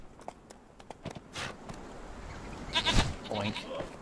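Several goat bleats ring out over a steady Conan Exiles game soundscape of footsteps and ambient noise, louder toward the end.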